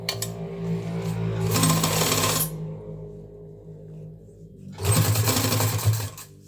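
Sewing machine stitching a zipper onto a school coat, running in two loud bursts separated by a brief pause, with steady mechanical whirring and no voices.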